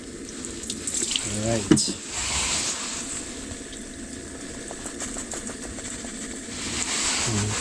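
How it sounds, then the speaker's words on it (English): Tap water runs steadily while crappie caught on the ice are rinsed, a continuous close splashing hiss with a brief clatter and a short spoken word near the start. "Just rinsing the fish here."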